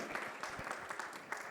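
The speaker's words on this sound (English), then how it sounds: "please give him a huge round of applause" Audience applause at an MTV Unplugged Season 8 stage show, a steady dense wash of clapping from a large crowd running throughout with no voices over it.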